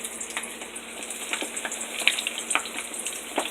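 Chicken drumsticks frying in very hot grease, a steady soft sizzle with scattered small pops and crackles, close and fairly quiet.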